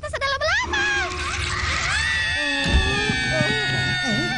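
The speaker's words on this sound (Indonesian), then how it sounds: "Siapa yang berteriak itu?" A high, wavering scream rises and bends in pitch in a cartoon scene, mixed with other vocal sounds and background noise, fairly loud throughout.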